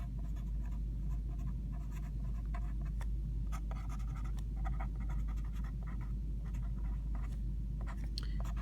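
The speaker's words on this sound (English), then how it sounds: "let's write this down" Pen or marker scratching out a sentence on a page, soft continuous scraping strokes with small pauses over a low steady hum, quiet and close, no voices.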